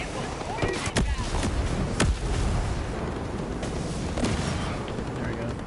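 Incoming mortar and artillery fire in Ghost Recon Breakpoint, loud sharp blasts landing irregularly, several close together, over a constant rumbling din of battle with no talk.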